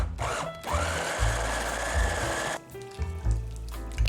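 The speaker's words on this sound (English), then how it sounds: "Then chop it up in your food processor" A food processor chops olive tapenade ingredients with a loud, close whirring grind broken by short pauses and bumps, then restarts with a lower, rougher churn.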